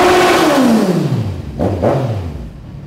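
A Kawasaki Z1000 sport motorcycle engine revs up loudly, then winds down as the pitch falls, followed by two quick sharp throttle blips close by.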